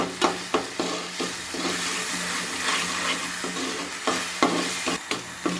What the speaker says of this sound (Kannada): ಉಪ್ಪು ಅರಿಶಿನ ಹಾಕೊಂಡಿದ್ದಲ್ಲ ಚೆನ್ನಾಗಿ ಮಿಕ್ಸ್ ಮಾಡ್ತಾ ಇದ್ದೀನಿ